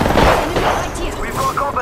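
Rapid gunfire from an Apex Legends match crackles in quick bursts, close and loud, mixed with game effects and some talk over it.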